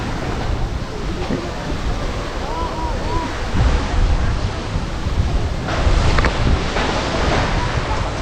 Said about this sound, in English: I just love the coconut trees over here along the beach here.